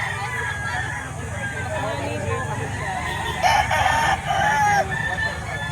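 Roosters crowing amid a chicken market in Lipa, Batangas, with overlapping calls rising over a constant murmur of people talking and bustling nearby, loudest crow near the middle.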